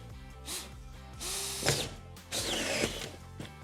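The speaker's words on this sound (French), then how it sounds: "la visseuse, elle est là, elle est prête." A power screwdriver driving screws into a VIPANEL wall panel, several close whirring bursts that rise and stop abruptly, with ratcheting clicks between runs.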